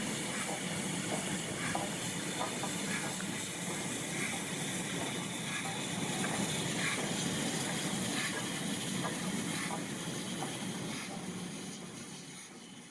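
A steam train on the heritage Paignton to Kingswear railway rolls past with a steady hiss and rumble, faint rhythmic wheel clicks running through it, the sound holding level before fading slightly at the end.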